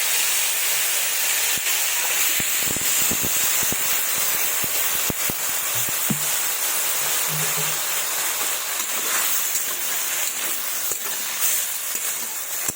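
Water poured into a hot pan of frying winter vegetables seasoned with spices, a loud steady hiss of steam and sizzling that carries on throughout, with a few sharp clicks near the start and no speech.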